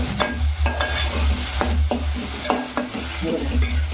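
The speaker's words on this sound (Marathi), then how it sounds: "कांदा शिजत तोपर्यंत आता डवलतच राहायचं गॅस फास्ट ठेवली आणि हे आपला कांदा लवकर शिजेल" Onions fry over high heat in a pan while a spatula stirs them, producing a loud continuous sizzle with regular scraping knocks about every third of a second, close and without speech.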